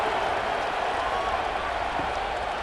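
A stadium crowd in a Colorado vs Utah college football video game on PS5 fills the scene with a steady, dense roar and scattered applause, constant in level throughout and without any voices standing out.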